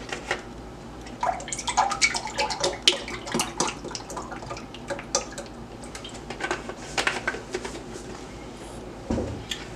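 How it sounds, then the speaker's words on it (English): Coconut milk is poured from a cup into a saucepan, giving irregular splashing and trickling that comes in uneven bursts, close and moderately loud. "My saucepan here, I'm going to add my milk."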